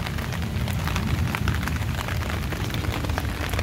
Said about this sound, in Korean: 오늘 비가 옵니다.